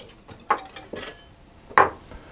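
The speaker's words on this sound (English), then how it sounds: "simply mix it until it's all combined" A spoon clinks and scrapes against a mixing bowl while wet ingredients for coconut blueberry muffins are folded into the dry mixture, giving a few distinct knocks spaced out in an otherwise quiet kitchen.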